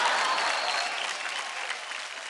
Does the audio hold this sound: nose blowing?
no